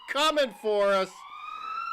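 A voice imitates a police siren with rising and falling wails, sliding into a long sustained whistling tone.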